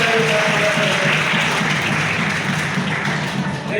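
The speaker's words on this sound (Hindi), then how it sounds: "जोरदार ताली के साथ स्वागत करें" An audience at a community gathering applauds to welcome a speaker, a loud, sustained patter of many hands that eases slightly toward the end, with a voice faintly present beneath it.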